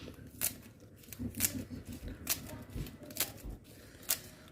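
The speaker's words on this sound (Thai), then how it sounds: "หั่นหอมปีลงใส่จักหน่อย" Quick, crisp cutting strokes tap out an uneven rhythm at close range, a knife chopping through spring onions on a board for a spicy seafood papaya salad, with no talking.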